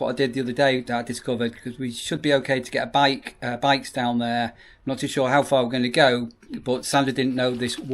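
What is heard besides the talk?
No everyday noises stand out.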